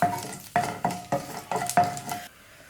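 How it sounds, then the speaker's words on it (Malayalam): Rhythmic scraping strokes of a spoon in a pan, about six stirs in a row as spices fry in hot oil with a soft sizzle, then a quiet pause. "അതിനുശേഷം നന്നായിട്ടൊന്ന് മിക്സ് ചെയ്ത് കൊടുക്കാം"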